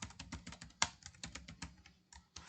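Typing on a computer keyboard while entering text into a screenshot tool's text box, a quick run of crisp, close keystrokes with one sharper, louder tap and a brief pause near the end.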